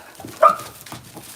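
A single sharp dog bark or yip rings out near a horse barn, short and close, with quieter low rustling and faint whimpering around it.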